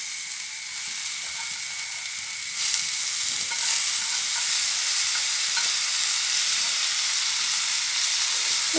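Cabbage and lentils stir-fried in a pan with very little oil for a vegetarian curry give a steady sizzle with stirring scrapes, growing louder partway through as more food hits the hot pan; no voices.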